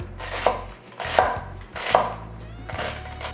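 A knife chops celery on a cutting board while Cajun dirty rice is prepared, with four sharp, evenly spaced chops close by and clear, separated by brief pauses.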